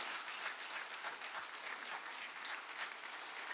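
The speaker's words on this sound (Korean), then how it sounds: "우리 하나님 앞에 감사 박수 올리겠습니다" A church congregation gives a round of thanksgiving applause, a soft, steady, even wash of many hands clapping at some distance, continuing without a break.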